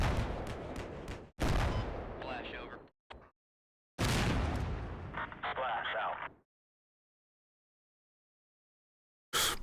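Gunfire and explosions in the war game Combat Mission Black Sea, with several dense bursts of shots and blasts separated by silent gaps.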